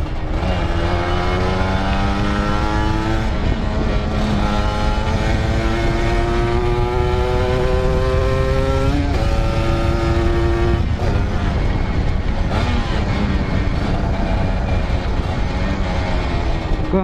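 A loud motorcycle engine drones continuously while riding through a city, its pitch rising steadily as it accelerates, then dropping and rising again.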